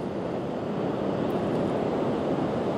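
Ocean surf at Devils Punchbowl in Newport, Oregon gives a loud, steady roar of wave wash mixed with wind buffeting, with no distinct crash standing out.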